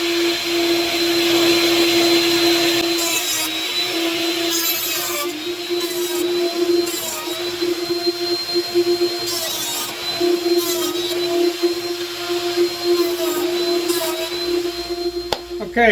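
Router cutting wooden beehive frame end bars, a loud steady high whine with recurring bursts of harsher chatter as the bit bites into the wood, continuing throughout with no talking.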